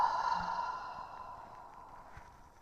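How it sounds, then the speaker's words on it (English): A single audible breath pushed out through an open mouth during a yoga flow, a soft breathy sigh that fades gradually over a couple of seconds, close and quiet. "Open the mouth, exhale all the air out."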